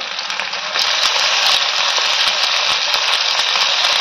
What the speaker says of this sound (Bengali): টমেটো দেওয়া হয়ে গেছে, ঠাকুমা ভালো করে নেড়ে নিচ্ছে।